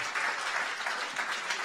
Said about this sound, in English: So I want a big applause for everything that has been said today